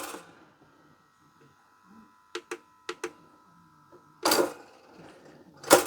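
Toaster eject lever popping up with sharp mechanical clicks and a springy clatter, a few close, distinct snaps standing alone in a quiet room.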